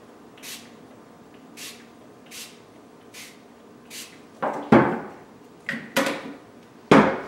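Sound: spraying bubble buster onto Lego minifigures

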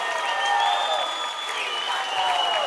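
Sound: audience applause at live concert

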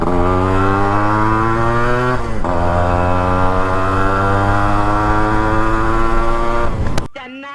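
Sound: RX-G motorcycle engine running and revving

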